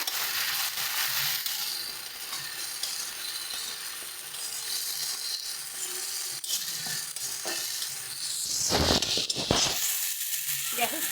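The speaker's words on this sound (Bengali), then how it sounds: "ভালো মতন করে মশলাগুলোকে কিন্তু কষিয়ে নিতে হবে" Masala of spices frying in oil in a pan for a raw banana kofta curry, a steady close sizzle with scraping stirs, growing louder near the end.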